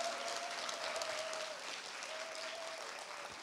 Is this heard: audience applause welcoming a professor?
yes